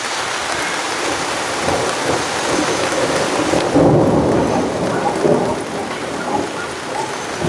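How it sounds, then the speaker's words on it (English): Thunder rumbles loudly over steady rain during an afternoon thunderstorm in Crestline, California, with a deep swell midway through and the downpour hissing continuously throughout. "this is actually more louder thunder and more frequent lightning"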